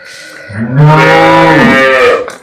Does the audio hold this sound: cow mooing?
yes